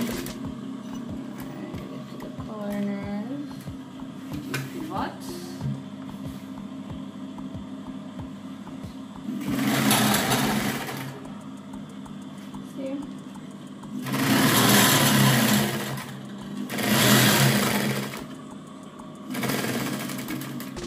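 A sewing machine stitches a pillow cushion, its motor whirring in several loud bursts of a few seconds each, with a steady hum and quieter handling noises between runs and a brief voice early on.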